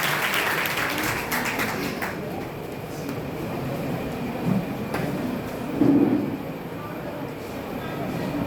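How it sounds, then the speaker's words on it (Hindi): An audience at a poetry gathering on cleanliness claps to welcome a speaker to the stage. A broad, rushing wash of clapping comes from a distance, loudest at the start, then fades into murmuring voices and room noise. "तालियों के साथ स्वागत करिए हमारी बहन सोनम चौहान।"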